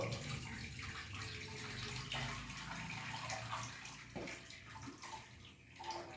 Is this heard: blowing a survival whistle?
no